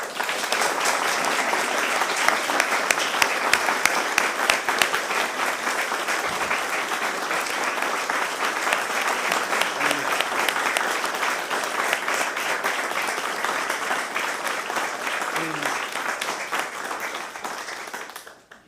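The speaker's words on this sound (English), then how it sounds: "So let's clap." A city council audience in Tampa claps steadily in a sustained, dense round of applause lasting the whole stretch, loud and close, fading only at the very end.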